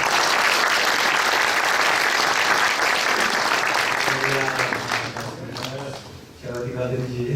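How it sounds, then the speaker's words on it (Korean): A church congregation at a Korean lay association's general assembly opening worship service claps loudly to welcome a pastor, the dense applause fading after about four seconds as a voice begins speaking. "목사님 나오실 때 우리 박수를 크게 환영해 주십시오."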